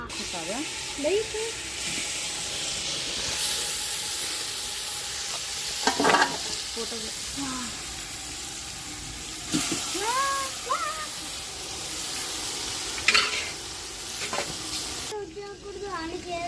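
Loud, continuous sizzling of marinated chicken in a pot, broken by clattering utensil scrapes and stirring knocks, with a few brief background sounds.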